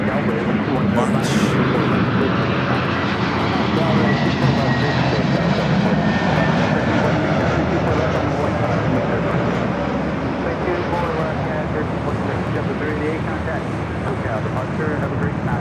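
Passenger jet engines roaring at LAX airport, a broad, loud, sustained rumble with a steady whine that lasts throughout while a person talks over it.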